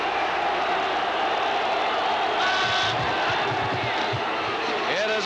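Large stadium crowd at a 1980 college football game between Pittsburgh and Florida State in Tallahassee, a dense continuous roar with rising cheers and shouts, heard alongside a play-by-play announcer's voice.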